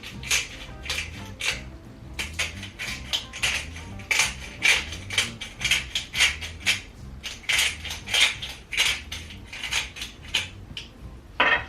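Chicken thighs are tossed with coarse sea salt and fresh cracked pepper in a bowl. Close, rhythmic clinks and scrapes of a utensil against the bowl repeat steadily for about twelve seconds, with no voice over them.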